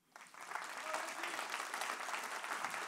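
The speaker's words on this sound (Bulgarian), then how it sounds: "ваши аплодисменти за Венци Гечев" Applause fills the hall at the Young Athlete of the Year 2023 awards ceremony in Bulgaria, rising quickly from near silence into steady, even clapping from a sizeable audience, moderately distant.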